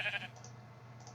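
A single sheep bleat from Minecraft with the Sky Factory modpack, short and fairly close, fading into a quiet low hum.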